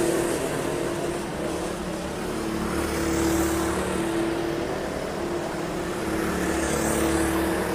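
Race cars, including Jake Sutton's number 9, heading down the back straight of a circuit, a dense continuous engine roar from several cars at a distance that swells and fades gently with no voices.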